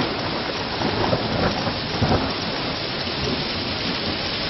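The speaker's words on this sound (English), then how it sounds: "That's the thunderstorm." A thunderstorm with heavy rain and hail beats down constantly and densely, with soft rumbles of thunder rising at times under the downpour.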